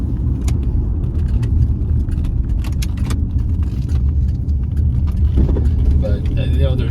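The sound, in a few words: 1992 Buick Skylark GS sedan accelerating on a drive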